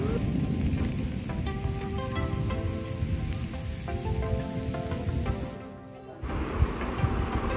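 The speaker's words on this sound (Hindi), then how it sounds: "ये जी माशाल्लाह से बारिश दोबारा से चल रही है" Steady rain patters and hisses on surfaces throughout, with faint tonal hum in the background and a brief dip near the end.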